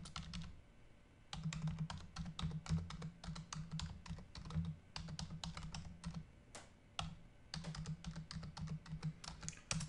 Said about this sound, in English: I'm going to type in the chat window.